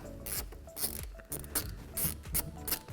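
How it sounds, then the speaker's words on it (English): An 8mm hose clamp on a car's throttle body is loosened with a ratcheting tool, giving quiet, close clicks and metallic turns in short bursts. "Loosen the 8mm hose clamp on the throttle body."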